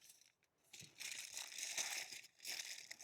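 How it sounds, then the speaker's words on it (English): Aluminium foil crinkles and crumples in bursts as meat is wrapped at a campsite, the close, crisp rustling broken by brief pauses. "Then you just wrap the whole thing up. We're going to need another piece of foil."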